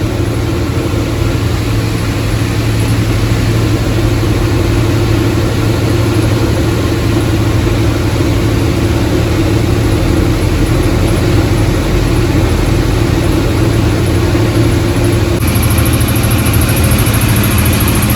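A truck engine runs at a steady, loud drone with a low rumble and constant hiss, unchanging for the whole stretch and heard up close with no voices.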